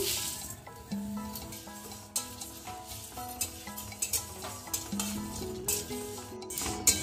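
Dried red chillies with panch phoron, cumin, coriander and fennel seeds fry in a pan for amla pickle, a soft crackle under repeated clinks and scrapes of a utensil stirring against the metal.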